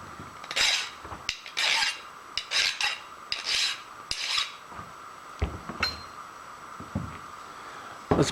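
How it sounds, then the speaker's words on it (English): A hand file rasping along the sharp edge of a metal lathe follow rest, a series of close, short scraping strokes in an uneven rhythm, separated by brief pauses and small metallic knocks. "we're filing just that edge, just to knock off the sharpness"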